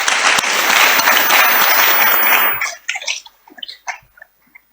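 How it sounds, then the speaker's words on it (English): Full audience applause at a memorial lecture in Ghana, thick and steady for over two seconds, then dropping abruptly to a few scattered late claps before silence. "Shall we please clap for them?"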